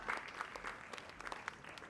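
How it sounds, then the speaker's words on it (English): Audience applause at a law college valedictory ceremony, a faint steady patter of many hands clapping in a hall, brief and fairly distant. "A big round of applause, Professor Prasad."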